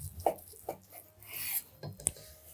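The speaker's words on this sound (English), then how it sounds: "So let's slice right into the middle and let's see what this looks like." A knife draws through a rested beef tenderloin on a cutting board in a few short, separate rasping strokes, quiet and close, with a light clink near the end.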